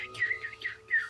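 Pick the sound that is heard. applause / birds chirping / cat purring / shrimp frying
birds chirping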